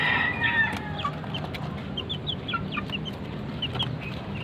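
Two mother hens cluck on a chicken farm among about a dozen three-day-old chicks, whose high peeping chirps continue steadily through a constant close, busy cackle.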